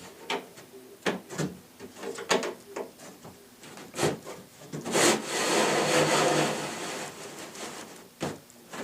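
A lazy Susan base cabinet part slides down into millwork channels with scattered wooden knocks and taps, then a longer scraping rub as it drops into place, close and without talk.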